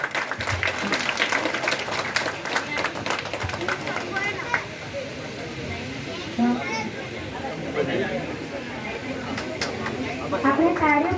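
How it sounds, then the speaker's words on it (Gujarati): Children and adults clap together at a primary school event in Baldagam village, Pardi, with a steady rattle of hand-claps mixed with chatter and voices from a nearby crowd. "આપણે તાળીઓ પાડીને બધાને વધાવીશું."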